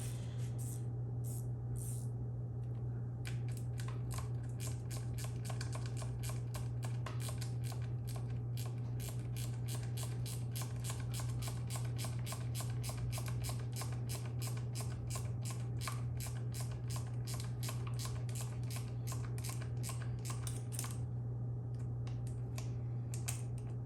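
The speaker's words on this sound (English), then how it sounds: "I will grab my ratchet wrench." A ratchet wrench tightening bolts on a YZ250 motorcycle, giving a long run of rapid, evenly spaced clicks close to the mic over a constant low hum, with a few slower clicks at the start.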